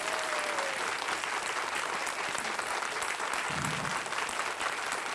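A studio audience on a Marathi quiz show claps continuously and evenly, dense steady applause filling the whole stretch.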